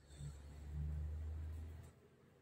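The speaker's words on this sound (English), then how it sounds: "you can hear the vibrations of the cars" Cars pass a dated hotel in Chumphon, Thailand, heard from inside as a faint, low rumble that swells and fades over about two seconds, with no voices.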